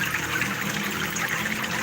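Drops of liquid fall into water while fermenting tofu dregs as feed for silk worms, a soft continuous trickling and splashing, fairly quiet, with no voices.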